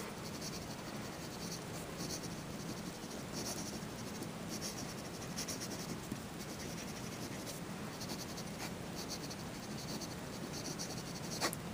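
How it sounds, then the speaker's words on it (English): A Skilcraft Executive navy fountain pen scratches quickly across paper in fast writing, a close, continuous scratchy rustle with short rhythmic strokes and small pauses throughout. "Let's just do some fast writing."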